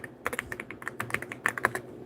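Rapid typing on a computer keyboard, with a quick irregular run of crisp, close key clicks and taps and no voices.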